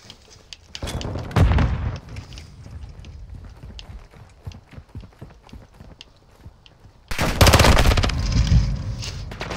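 Long-gun fire in the zombie game Dead Island 2: loud bursts of rapid shots near the start and again toward the end, with scattered quieter pops and clatter in between.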